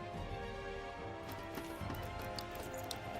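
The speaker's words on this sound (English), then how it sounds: "Footsteps sound from ahead, coming down the stairs." Footsteps descending a staircase ahead in the game Girl's Frontline, a run of quick, uneven knocking steps with a faint clatter, heard over a steady background hum.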